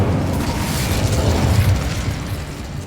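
An Incendio fire spell in Hogwarts Legacy erupts as a sustained, loud roaring blast of flame, a rumbling low whoosh that holds steady for a few seconds before easing off.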